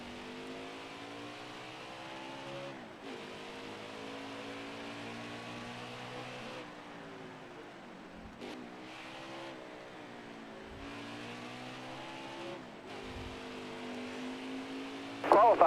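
Racing trucks lapping the short Bristol track in a racing video game, engine tones climbing and dropping repeatedly as gears shift and corners pass, steady and continuous with no talk.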